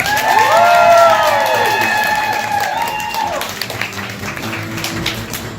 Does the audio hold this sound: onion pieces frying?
no